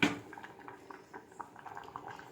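Food boils in water in a pot on a stove with soft, irregular bubbling pops, quiet and close, with a faint clink at the start and no talking.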